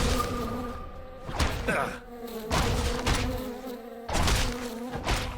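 Murder hornets buzz loudly in Two Worlds II, a steady insect drone swelling in repeated bursts with dull thumps between them.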